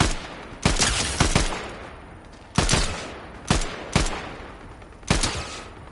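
Tap-fired gunshots from a player's gun in the video game Fortnite crack sharply and close in uneven bursts of one to three shots, separated by short pauses.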